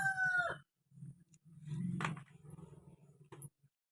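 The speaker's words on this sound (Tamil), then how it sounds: "இப்போ தான் வந்து சேவல் வந்து ரொம்ப சுறுசுறுப்பாக வந்து கூவிட்டே இருக்காரு" A rooster crows close by in a quiet rural setting, one strong drawn-out call in the middle with a few shorter clucks and calls around it and no talk.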